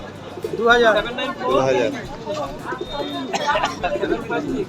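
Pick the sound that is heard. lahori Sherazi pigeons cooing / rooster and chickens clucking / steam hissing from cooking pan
lahori Sherazi pigeons cooing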